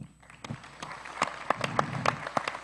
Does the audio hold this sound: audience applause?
yes